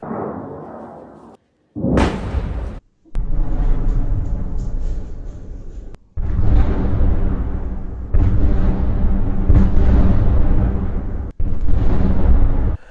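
Several heavy, rumbling blasts in succession, each a loud roaring burst with a sharp onset, separated by brief gaps of near silence.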